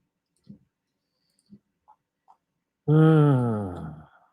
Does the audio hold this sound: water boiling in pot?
no